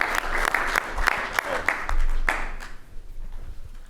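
An audience at a high school pitch contest applauds student contestants. It starts as a moderate wash of clapping with a few crisp nearby claps, then fades away into quiet room tone.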